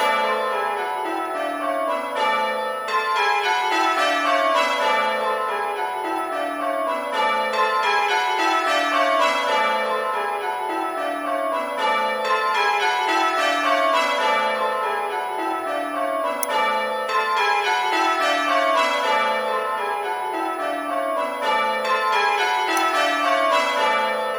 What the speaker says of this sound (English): The bells are just circulating round at the moment in rounds